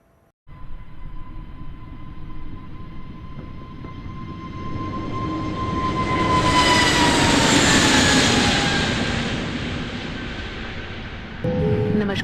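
An airliner lands at Indira Gandhi airport in New Delhi. Inside the cabin a steady engine roar builds into a loud, broad rush of noise that peaks midway and then eases slightly, with a clunk near the end.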